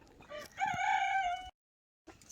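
Chickens at a backyard coop, with a rooster crowing one loud, clear cock-a-doodle-doo after some softer clucking. A short silence follows, then faint coop sounds return.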